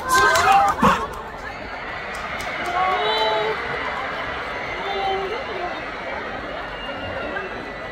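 A large crowd at a concert during a university festival at Inha University roars and shouts in a steady, distant wash, with a few louder yells near the start.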